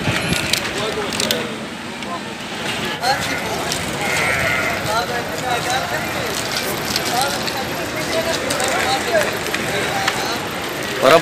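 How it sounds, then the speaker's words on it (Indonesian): Goats of many kinds at a sacrificial animal market in Mecca bleat repeatedly amid a busy, constant crowd din, with people talking throughout. "Datang lagi kambing-kambing"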